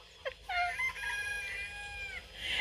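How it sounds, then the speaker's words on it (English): A rooster crows loudly and close by in Kentucky, a long drawn-out cock-a-doodle-doo lasting about two seconds with a rising start and a sustained wavering tone. "that rooster crows underneath the window"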